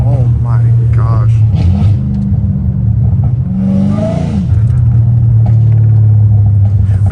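A straight-piped Dodge Hellcat Redeye rumbles deep and loud at close range, revving up briefly mid-clip before settling back to a heavy burble, with a person talking excitedly over it.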